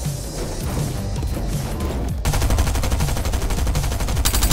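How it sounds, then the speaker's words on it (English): Rapid video game gunfire crackles loud and close during a Fortnite-style match, a dense stream of shots that turns into a sharper, harder burst of automatic fire halfway through. "Yes, I shot that guy down."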